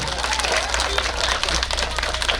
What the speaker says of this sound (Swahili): Wapigie makofi vizuri.